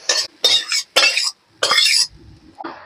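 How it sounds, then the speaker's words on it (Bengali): Cooked Malabar spinach greens with katla fish head are scraped and poured from one pot into another, four or five rough, close scraping bursts separated by short pauses. "আমি এবার এটা একটু নামিয়ে নেবো, মানে একটা অন্য পাত্রে আমি ঢেলে নেবো এটা।"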